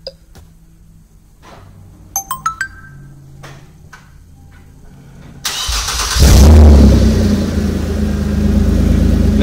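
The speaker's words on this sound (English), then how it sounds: "We're going to start the engine." A 2007-2009 Kia Sorento started by remote start: a few faint chirps and clicks in a quiet space, then the engine cranks and catches with a loud surge before settling into a steady idle.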